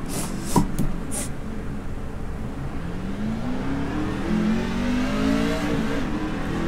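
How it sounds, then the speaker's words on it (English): A truck engine in a truck racing video game cranks over and revs, its pitch sweeping upward steadily and holding loud and close with no talking. "Once I turn the truck on"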